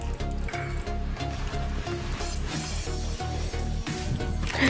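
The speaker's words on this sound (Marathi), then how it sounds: "आता तेल तापल्यानंतर यामध्ये जे शेंगदाणे घेतलेले आहेत ते तळून घ्यायचे आहेत" Peanuts frying in hot oil in a kadhai for kanda poha, a steady close sizzle with soft crackling running evenly throughout, no voice over it.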